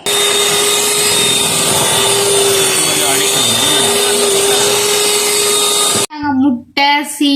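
An electric mixer beats a batter of eggs, sugar, margarine, vanilla, baking powder and salt for peanut biscuits, a loud steady whirring drone with slight pitch wobbles, cutting off near the end as a voice speaks.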